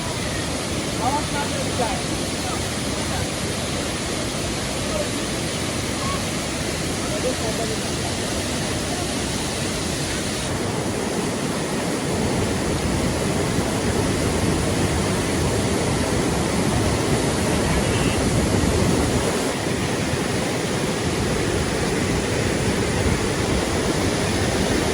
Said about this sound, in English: Welcome to Mambo Waterfall.